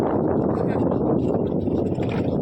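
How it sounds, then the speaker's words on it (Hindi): Wind blows outdoors along a rural road, a loud, steady low rumble of gusts buffeting the microphone throughout. "कितनी अच्छी हवा चल रही है"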